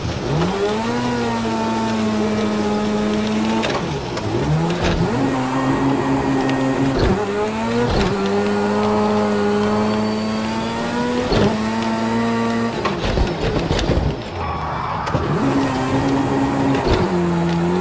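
A rallycross car engine in a racing video game revs loud and close in repeated rising pulls, with gear shifts breaking each climb and a brief lull near the end before the revs build again.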